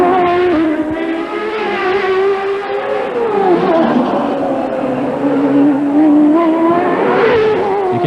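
A 1999 CART open-wheel race car on a qualifying lap at the Houston street circuit screams past with a loud, sustained engine wail, the pitch rising and dropping through gear changes and braking.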